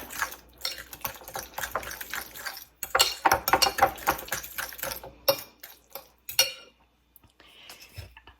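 Chicken being mixed with garlic and garlic salt in a bowl, giving wet clattering and scraping of utensil against dish in irregular bursts, close and fairly loud, with a pause near the end.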